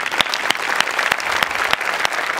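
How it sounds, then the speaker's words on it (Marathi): A studio audience at a Marathi comedy show applauds, a dense, even wash of clapping that carries on steadily and fills the whole stretch, loud and close. "सो तुझ्या पॅशनसाठी माझ्याकडून खरं तर टाळ्या"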